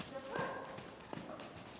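A horse's hooves clip-clop on an arena surface during a riding lesson, faint irregular thuds under a nearby instructor's speech.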